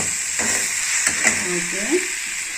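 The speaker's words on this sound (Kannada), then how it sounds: "ಉಪ್ಪು ಹಾಕಿ ಒಂದ್ಸಲ ಬಾಡಿಸ್ಕೊಳ್ಳೋಣ ಹಾಗೆ" Ivy gourd with salt and a pinch of asafoetida sautéing in a pan, a steady frying hiss with a few light stirring clicks, close and continuous, with no talk.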